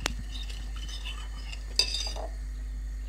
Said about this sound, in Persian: کاملا ماست رو گلابا با هم دیگه باز میکنم